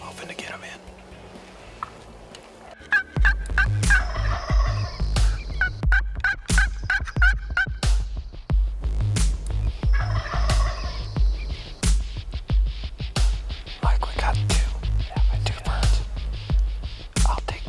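Wild turkeys gobble in the distance during a hunt, giving repeated bursts of gobbling over a steady low hum. Faint whispering runs under them and a strong rhythmic low thumping continues throughout.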